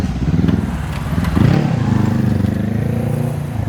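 A motorcycle rumbles close by, its engine idling steadily with a brief rise in revs as it pulls up and arrives on a road in Phang Nga, Thailand.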